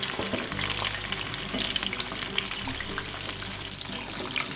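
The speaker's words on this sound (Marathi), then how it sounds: "लो मिडियमवर एक 10 मिनिटं आपल्याला हे आता तळून घ्यायचे" Chicken lollipop pieces deep-fry in oil over low-medium heat, giving a close, continuous bubbling sizzle with a watery, gurgling texture that runs without a break.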